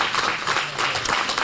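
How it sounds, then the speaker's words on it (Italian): An audience at an Italian conference on asylum-seeker reception applauds as a speaker steps up, a dense, even roar of many hands clapping throughout, fairly loud and continuous. "lo accoglierei con un applauso"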